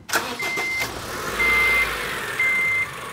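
A Honda car with the cooling system being serviced, its engine cranking and catching at the start, then idling steadily while three evenly spaced high electronic beeps sound, close and fairly loud.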